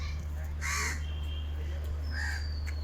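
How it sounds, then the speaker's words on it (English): Crows in a quiet residential colony at Santragachi give two distinct harsh caws, one early and one later, heard outdoors at moderate distance over a low steady hum. "You could hear the birds here"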